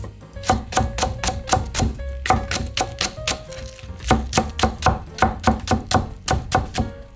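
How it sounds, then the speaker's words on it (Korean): A knife slices a thick green onion (daepa) on a cutting board, cutting long diagonal pieces through the sweet white part for bulgogi. Quick, evenly paced chops land close and crisp in steady bursts with short pauses between runs. "대파를 기름기름하게 어슷어서 썰어주세요."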